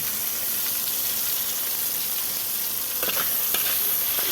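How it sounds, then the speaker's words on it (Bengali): Long eggplant slices frying in hot oil in a pan, a dense, even, close sizzle with a couple of brief stirring scrapes near the end and no voices. "সেম তেলে দিয়ে দিচ্ছি আমি লম্বা লম্বা করে রেখেছিলাম, কেটে রেখেছিলাম বেগুনগুলো আমি দিয়ে দিলাম।"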